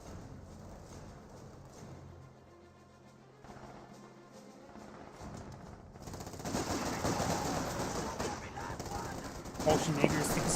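MG34 machine gun fire in the video game Company of Heroes 2, sounding as quiet bursts of battle that grow louder and denser toward the end, mixed with other gunfire.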